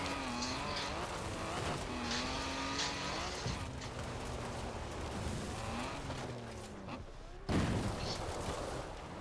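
A rare Lancia racing in Forza Horizon 4, its engine revving and shifting through gears at moderate level with a sharp burst near the end, under talk from players.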